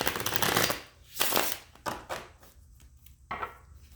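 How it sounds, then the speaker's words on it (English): Playing cards are shuffled in quick riffling bursts, a long flutter at first followed by shorter snaps and riffles, close and fairly loud. "So loud with my shuffles."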